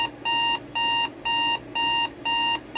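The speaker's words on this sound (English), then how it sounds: "The alarm on this is nice and annoying." A Coby CR-A108 alarm clock sounds its alarm as a repeating electronic beep: five loud, even pulses with short pauses between them, heard close up with no talking.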